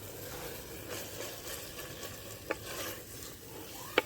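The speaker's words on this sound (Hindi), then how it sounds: "चलो जी, इसको अच्छी तरह से मिक्स करती हूँ।" Chicken ginger handi gets stirred in a pan over the heat, a steady soft sizzle and scraping stir with two sharp metallic clinks of the spoon against the pan.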